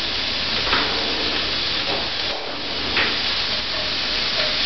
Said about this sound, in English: Spread the oil in the pan. Throw the shrimp in.